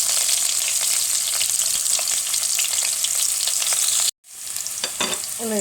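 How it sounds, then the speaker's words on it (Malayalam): Chopped onion and green chili fry in hot coconut oil with a loud, steady sizzle and the clatter of stirring, broken by a brief cut near the end before the frying resumes. "വെളിച്ചെണ്ണ ചൂടായിട്ടുണ്ട് അതിലേക്ക് നമ്മൾ എടുത്തു വച്ചിരിക്കുന്ന സവാള പച്ചമുളകും ഇട്ട് കൊടുക്കാം"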